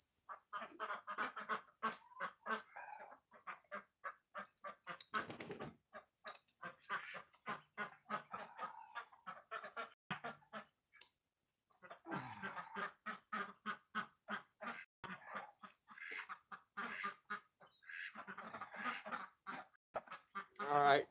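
Farm geese and ducks honk and quack in dense rhythmic bursts for a long stretch, a busy flock nearby with short pauses between volleys.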